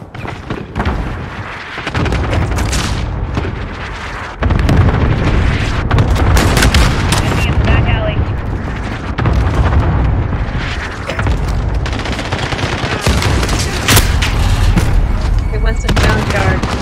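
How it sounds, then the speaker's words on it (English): Cluster strike explosions in a Call of Duty match, heavy booms and gunfire layered into a loud, continuous battle din, with voices talking over the action. "Allied cluster strike inbound."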